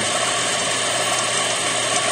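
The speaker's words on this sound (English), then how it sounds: "Basically, I'm drilling" Steady, continuous whir of a drill cutting into a metal guitar string ferrule, a dense mechanical grinding with a faint ratcheting texture, close and even throughout.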